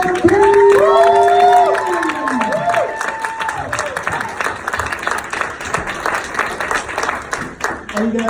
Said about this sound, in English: Everybody stand to your feet and let's clap it up for Sam King